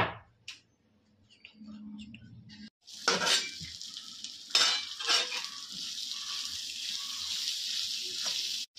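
Turmeric-spiced food is stirred and sautéed in hot oil in a pan, with metal utensil scrapes and clinks over a steady sizzle. A short quiet stretch comes first, then the frying grows louder and continues.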